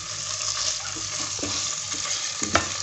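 Boneless chicken sizzles steadily in a hot pan for a couple of minutes, with a continuous broadband frying hiss and occasional soft stirring clinks, close and moderately loud with no talking.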